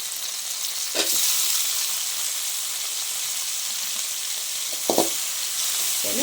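Garlic and tomatoes sauté in a pan for crab varuval with a steady, fairly quiet sizzle, broken by a couple of brief stirring scrapes.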